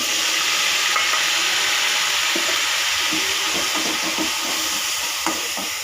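Onion fries in hot oil with ajwain and cumin seeds in a loud, steady, close sizzle, with light stirring scrapes throughout.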